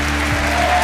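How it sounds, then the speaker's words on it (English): Steady, dense applause from an audience fills the short moment at an even loudness, with a faint low hum beneath it. "Yeah, you can clap for that."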